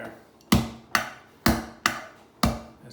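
A vegetable cleaver chops through peeled garlic on a cutting board, five sharp, close thwacks landing at an uneven rhythm with brief pauses between strikes.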